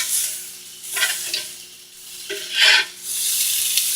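Food searing in a hot pan in a home kitchen, with bursts of loud sizzling that swell and fade, close up, between quieter stretches, with no talking.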